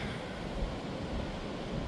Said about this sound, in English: The sea is very choppy.